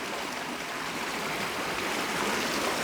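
Stream water flows steadily as hands are washed in it, a close, even rushing hiss with no talking.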